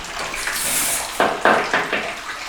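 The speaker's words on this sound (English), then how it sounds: "Now you can hear the water running" Water runs steadily in a bathroom of an abandoned mansion, a soft hiss with a few louder splashing surges toward the end, moderately close and with no voices.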